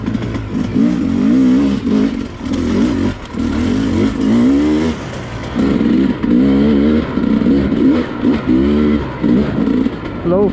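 A Sherco 250SE trail motorcycle engine is loud and close as the bike is ridden, with a buzzy note that rises and falls repeatedly through throttle blips and gear changes, with short lulls between pulls.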